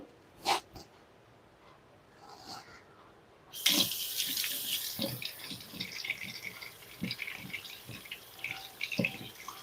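A kitchen tap gushes into a sink as store-bought fruit is rinsed, the steady running water starting abruptly after a few faint knocks and continuing close and moderately loud with small splashes.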